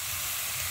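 Pork sizzling in a pan as it renders its own fat for Bicol Express, a steady, bright hiss with no pauses, close and fairly loud.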